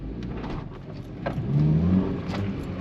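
A Toyota Corolla GTI E100 with a naturally aspirated engine running without an air filter pulls away from a standstill in first gear, a moderate engine note rising as it revs, heard from inside the car.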